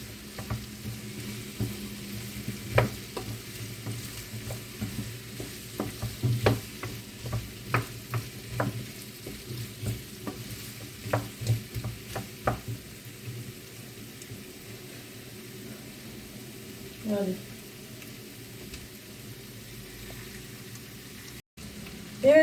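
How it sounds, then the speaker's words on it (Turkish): Onions, carrots, potatoes and tomato paste being stirred and sautéed in a pan, a low sizzle broken by irregular scraping and clinking of a spoon for about half the time, then quieter frying with a lone knock and a louder bump at the end. "soğanımı, havucumu, patatesimi, salçamı da koydum. Kavurdum güzelce."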